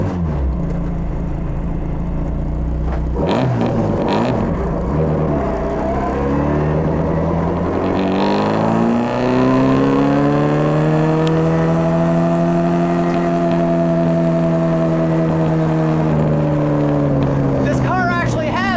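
A Britax Classic Race Mini, a small street-legal car, drives along a street with a steady droning engine whose pitch climbs and falls as it revs, close and continuous throughout.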